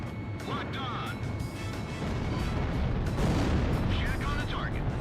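Heavy cannon and missile fire from an Ace Combat jet aimed at ships, with booming bursts, jet rumble and cockpit radio voices talking throughout.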